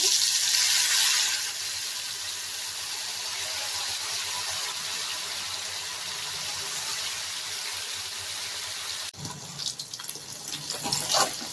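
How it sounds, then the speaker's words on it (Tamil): Pieces of emperor fish fry in hot oil with a steady, dense hiss close by, easing slightly after the first moments and breaking into sparser crackles near the end. "எண்ணெய் சூடாயிடுச்சு. நம்ம மீனை சேர்த்துக்கிறேன்."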